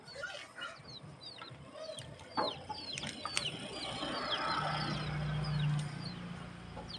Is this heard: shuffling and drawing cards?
no